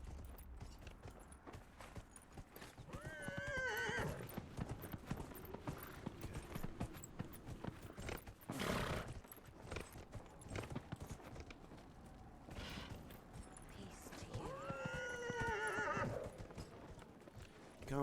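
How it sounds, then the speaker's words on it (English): Horse neighs and whinnies in the Dragon Age Inquisition video game, two distinct whinnies several seconds apart over steady clip-clopping hooves, with a burst of game noise between them. "Sorry, horse, you're gonna have to stay out."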